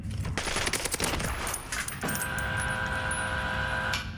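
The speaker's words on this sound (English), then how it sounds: "But listen to the gunshots." Gunfire in the video game Warzone: rapid bursts of automatic shots crackle in the first two seconds, followed by a ringing, sustained tone and lingering room noise, loud and close.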